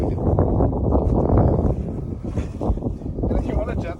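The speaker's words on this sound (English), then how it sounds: "Need to mention that it's windy as hell." Strong outdoor wind buffeting the microphone in gusty low rumbles on a hillside stone-lifting outing, with brief bits of background voices.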